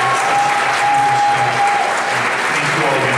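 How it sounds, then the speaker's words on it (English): Loud, sustained audience applause at an anime convention's opening ceremony, steady dense clapping throughout, with a brief tonal whistle-like tone early on and a faint voice underneath. "keep that round of applause going for all of our wonderful staff members"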